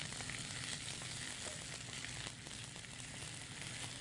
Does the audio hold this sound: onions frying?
yes